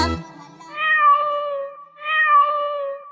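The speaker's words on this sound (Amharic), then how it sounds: "እንዴ ባቶሊቶ እቺማ ድመት ናት።" A cat meows twice, two long, clear, drawn-out cries close by with a short pause between them.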